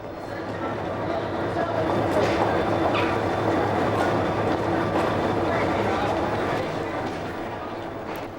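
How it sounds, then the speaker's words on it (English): An intercity train bound for Londonderry pulls away from a station in Ireland, a steady, fairly loud rolling rumble of wheels on track that swells slightly and then eases off. "The intercity continues on its way to Londonderry."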